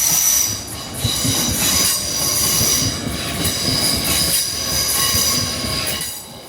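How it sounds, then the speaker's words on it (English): A train rolls steadily past nearby on a viaduct on the East Coast Main Line, its wheels rumbling and squealing on the rails in a continuous metallic clatter. "you do get some lovely views of the trains passing over the viaduct as they enter the station"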